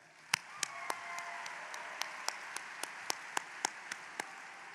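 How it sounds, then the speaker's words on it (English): Graduation audience at a high school ceremony applauding honored guests, heard as about a dozen sharp, evenly spaced claps over a low murmur, sparse and fairly close rather than a full ovation. "How about one last round of applause for our honored guest?"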